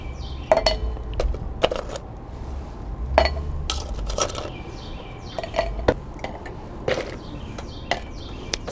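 Ice cubes dropped one after another into a large brandy snifter for a Mai Tai, giving a run of bright, irregular glassy clinks and knocks, close by with no talk.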